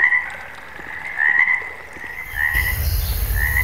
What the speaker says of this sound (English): we just have the frogs